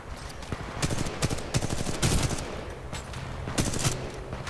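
Gunfire in a PS4 shooter, repeated sharp shots and short bursts spread irregularly across a few seconds, fairly close and loud, with no talking.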